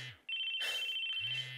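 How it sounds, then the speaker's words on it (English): An electronic phone ringtone from the visual novel game Chaos;Head Noah rings out as a steady, bright, sustained electronic tone, starting after a brief gap and holding clearly for over a second with no talk over it. "Oh, Taku, your phone's ringing."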